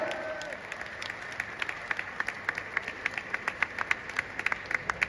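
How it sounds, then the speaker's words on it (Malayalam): Audience applause at the NPC Mr Kerala 2023 bodybuilding competition during the kids physique category, a crowd clapping at moderate distance with sharp individual claps standing out, rising in density, under faint background voices. "കയ്യടി പോരാ"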